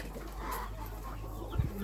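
Bantam hen clucking softly in a poultry yard right after laying an egg, a steady low murmur with one louder cluck near the end.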